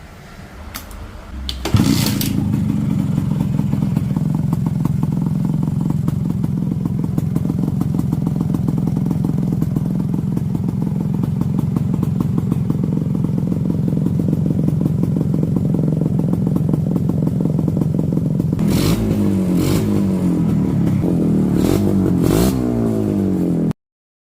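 A two-stroke chopper motorcycle with a homemade quiet exhaust, its pipe stuffed full length with loose baffle, starts up and rides steadily with a loud, constant buzzing drone, then revs and shifts near the end.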